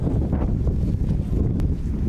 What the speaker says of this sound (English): Wind gusting just as much as it has at any point today.